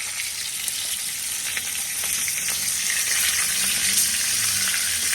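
Seafood sizzles and crackles in hot oil in a pot over a wood fire, a dense continuous frying hiss, close and steady, with no talking.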